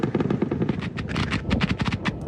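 Rapid bursts of automatic gunfire fired from the air during a news report of a strip of land being strafed, with sharp repeated cracks in a fast, uneven rhythm, loud and close, with no talk over them.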